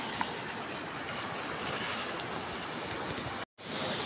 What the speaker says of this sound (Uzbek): mana shu Oltinsoy daryosi. Ancha sel keldi mana.